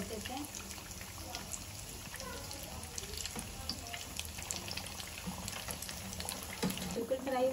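Potato snack frying in hot oil on a medium flame, a steady dense bubbling hiss that runs nearly unbroken throughout, with a few brief clinks and splashes near the end.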